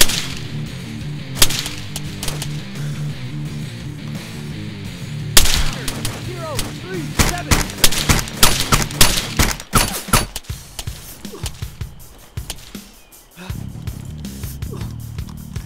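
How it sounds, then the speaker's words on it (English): Gunshots during a tactical team operation: a few sharp, isolated cracks early on, then a loud, rapid cluster of shots in the middle that thins out, with background noise and some voices. "Shots fired."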